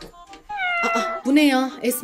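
A small abandoned kitten, left in a basket at a door, meows loudly and close by in a couple of rising, wavering cries while someone speaks over it.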